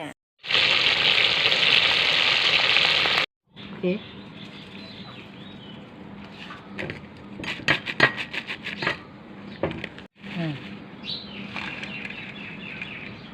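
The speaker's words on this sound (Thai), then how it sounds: "จัดการทอดเลย" Mole crickets dropped into hot oil, a loud close burst of frying hiss at first, then a long uneven crackle and spatter of sizzling oil with occasional pops and stirring noises.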